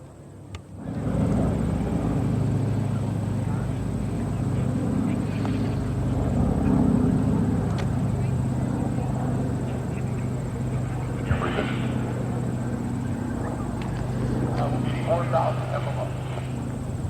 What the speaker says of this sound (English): The B-25 and behind the Japanese